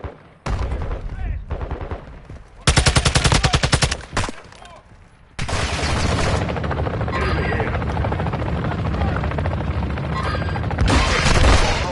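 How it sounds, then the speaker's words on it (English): Gunfire in the game Call of Duty DMZ: rapid automatic bursts come in loud, dense stretches, mixed with a steady helicopter drone and continuous battle noise, while radio voices call out over the fighting. "You are taking effective fire."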